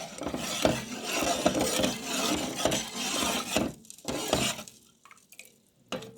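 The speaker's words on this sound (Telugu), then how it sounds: "ఒకసారి మిక్స్ చేసుకుందాం అంతా కలిసేలాగా" A spoon scrapes and swishes around inside a metal pot of tomato rasam with tamarind water in repeated strokes, close and fairly loud, with a few brief pauses toward the end.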